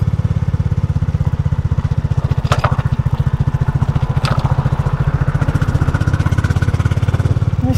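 A tractor engine running close by with a loud, steady, rapidly pulsing chug that holds an even rhythm from start to finish, with no voices over it.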